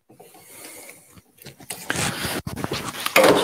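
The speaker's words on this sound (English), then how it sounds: "I'm just going to make sure I get everything scraped out there." Spatula scraping coffee cake batter out of a bowl, a series of short close scrapes and rubs that grow louder and more continuous toward the end.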